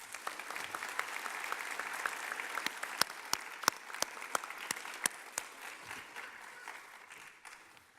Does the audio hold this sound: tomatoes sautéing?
no